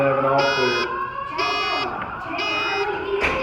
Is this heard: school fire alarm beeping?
yes